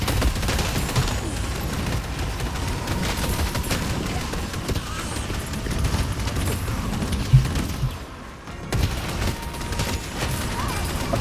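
Dense barrage gunfire in the video game Deadlock rumbles and crackles continuously, a thick wash of shots and impacts that dips briefly near the end before resuming.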